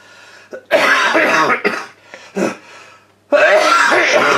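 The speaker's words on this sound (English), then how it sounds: "sorry about the coughing" Several harsh coughs close to the microphone, a short burst followed by a couple of isolated hacks and then a longer fit.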